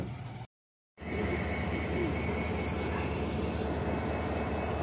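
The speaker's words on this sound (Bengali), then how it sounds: "রেলওয়ে স্টেশনে পৌঁছে গেলাম" A train rumbles steadily at a railway station, with a low continuous drone and faint rail hum after a brief moment of silence near the start.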